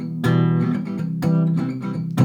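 Acoustic guitar strumming the chorus chord progression of the song Burn Me, three bright chord strums in a steady pattern, close and clear with no voice.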